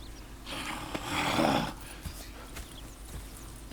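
Horses in the Western video game Red Dead Redemption 2, giving soft hoof clops and snorting breaths against low ambient noise, swelling briefly into a louder rustling burst before settling back to quiet, scattered thuds.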